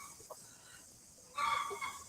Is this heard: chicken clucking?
yes